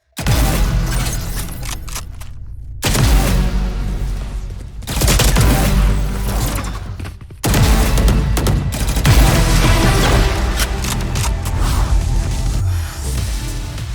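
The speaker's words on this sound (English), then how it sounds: "The kill banner has one of the most satisfying sounds, and especially when you hear it kill 1, 2, 3, 4, 5 finisher" Valorant Champions weapon skin firing in a video game, dense loud gunfire with booming hits and whooshing effects layered over music-like textures, continuous with brief dips near 3, 5 and 7 seconds.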